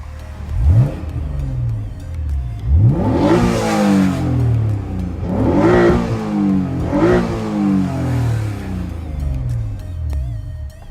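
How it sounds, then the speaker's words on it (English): A Honda NSX engine revs up sharply four times in succession, each blip climbing and falling back to idle, close and loud with no talk. "Here are a few revs."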